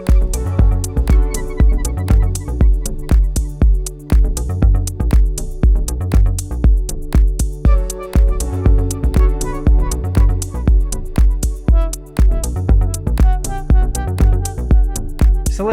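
A full electronic track played on a Melbourne Instruments Delia synthesizer, with steady punchy drums, a thick bass line and layered synth chords and melodies running loud and continuous throughout, with no voices.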